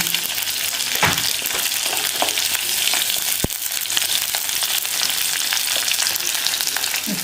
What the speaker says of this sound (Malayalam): ഇനി നമുക്ക് വേപ്പില ഇട്ട് വറ്റൽമുളക് ഇടാം